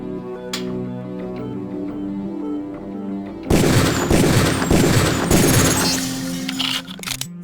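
Gunshots ring out at training targets in the video game Deus Ex, a loud burst of rapid cracking shots after a calmer musical stretch, with no talk.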